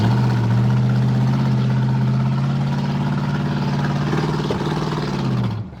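A Buick Wildcat engine, back running after sitting for years, idles with a steady low, throbbing drone. It stays loud and even throughout, then cuts off abruptly at the very end.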